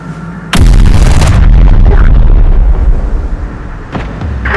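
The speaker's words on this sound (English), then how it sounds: "The machines are bringing in heavy artillery." Heavy artillery fire in Terminator Dark Fate Defiance: a loud, close blast erupts and rumbles on for several seconds. A second sharper burst follows near the end.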